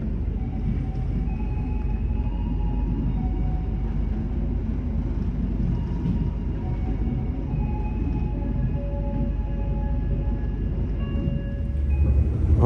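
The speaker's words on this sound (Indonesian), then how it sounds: "kereta api Argo Muria akan tiba di tujuan akhir, yaitu stasiun Semarang Tawang" Steady interior rumble of the Argo Muria passenger train running on rails toward Semarang Tawang, a continuous low roar with faint tonal squeals and no voices throughout.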